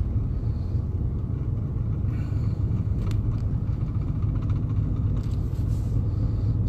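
A car rolls slowly along a damaged road near a volcano with a forming sinkhole and a 25 mph limit, giving off a steady, close low rumble of tyres and engine that never lets up, with no speech.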